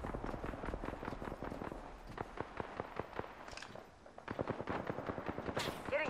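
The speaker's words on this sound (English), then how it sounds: "Getting shot at." Gunfire in Apex Legends: rapid, fairly close automatic shots rattle in steady bursts, with a short lull before another volley.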